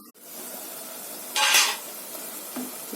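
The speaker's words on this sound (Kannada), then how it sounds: "ಮಧ್ಯ ಕೈ ಆಡಿಸಿ ತಳ ಹಿಡಿಯುತ್ತೆ." Tomato and chili masala frying in a pan for an avarekalu and methi leaf rice bath, stirred by hand; a quiet low sizzle runs throughout, broken by one short, brighter scraping hiss midway. No one speaks.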